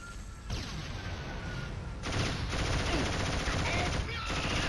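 Machine gun fire from the MG in the Killzone 1 video game, a sustained rattling burst that thickens midway and keeps going steadily to the end, with a voice talking over it.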